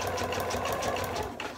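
A sewing machine stitches fabric while assembling a crossover garment front, a close, steady rapid whir that eases off briefly near the end.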